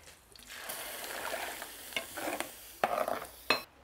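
Chile hits a heated clay pot holding an onion slice, giving a sharp, close sizzle that swells and crackles, broken by a few louder stirring scrapes before stopping abruptly.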